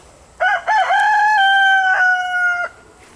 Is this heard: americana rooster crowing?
yes